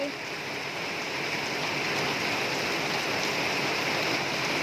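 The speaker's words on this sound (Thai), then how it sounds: "ตกปทุมธานีคลองหนึ่งคลองหลวงฝนตกนะจ๊ะ" Rain falling in Khlong Luang, Pathum Thani, a steady, even hiss of rainfall on surfaces heard at moderate volume, unbroken from start to finish.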